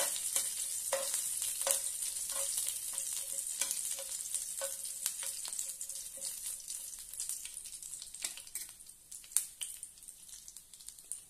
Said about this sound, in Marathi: आता आपण हे छानपैकी तेलात फ्राय करून घेऊया।